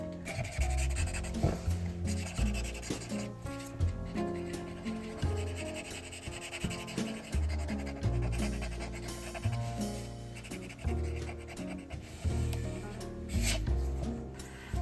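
A blending tool rubbing shading onto paper for a Zentangle onion drawing, with repeated close scratchy strokes in an uneven rhythm, and no talk.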